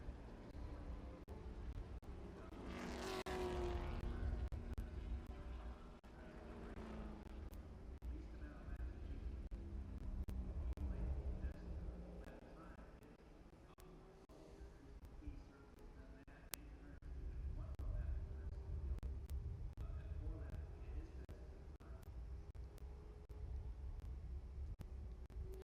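Trans Am TA2 race cars in qualifying at Watkins Glen: one car sweeps past with a rising then falling engine whine, followed by more distant engine rumble, all under continuous commentator talk.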